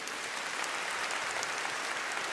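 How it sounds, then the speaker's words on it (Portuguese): Applause from a church audience at a Catholic radio program, a dense steady wash of many hands clapping throughout, moderately loud and with no voices over it. "Uma salva de palmas para vocês."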